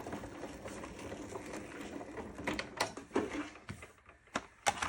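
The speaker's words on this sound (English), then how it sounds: "we'll roll it through our Sizzix Big Shot Plus right here" Sizzix Big Shot Plus die-cutting machine cranked by hand, a soft mechanical whir with clicking and ratcheting taps that grow more distinct toward the end, near and fairly quiet.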